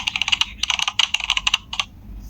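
A typewriter-style typing effect of rapid clustered key clicks in irregular bursts with short pauses, close and crisp, with no voices.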